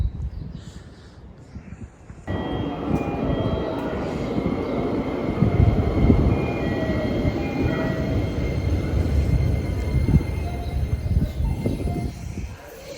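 A train pulls into a station in Japan. The sound starts as a faint hum, then a loud rumbling roar of wheels and carriages sets in and holds steady, with faint squeals and rattles on top.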